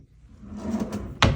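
A hotel room drawer slides along its runner with a soft scraping rumble, then shuts with a sharp, close knock, heard alone.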